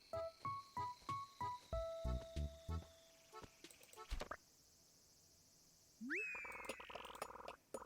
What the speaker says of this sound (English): A walker cicada. It's an Austin cicada.